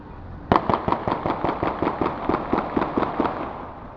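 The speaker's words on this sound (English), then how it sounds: "a ShotSpotter audio recording of multiple rounds fired by Detective Palma" Multiple gunshot rounds from a police officer-involved shooting in Richmond, captured by a ShotSpotter recording: about fifteen sharp reports in a fast, fairly even string lasting three seconds, distant and echoing.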